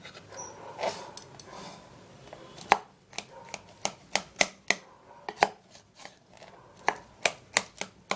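Knife chopping pineapple into pieces on a cutting board, a run of sharp, close, irregular thuds that grow steadier and more rhythmic, with faint background noise between strikes.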